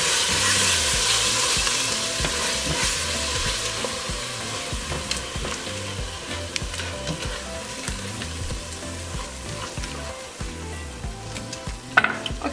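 Green chiles are stirred in a pan for beef green chile, sizzling steadily up close under a repeating scrape of the spoon, with a few sharper knocks near the end.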